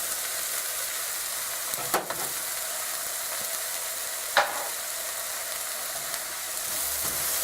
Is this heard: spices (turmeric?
yes